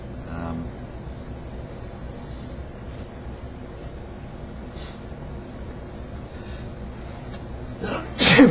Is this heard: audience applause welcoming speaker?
no